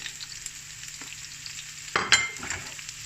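Carrots and other ingredients for an eggplant dish sauté in a pan, a faint steady sizzle broken by a couple of sharp metallic clanks of a utensil.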